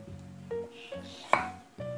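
A knife cuts a potato into smaller pieces on a cutting board, making four distinct knocks at uneven intervals, each followed by a short scrape, close and moderately loud.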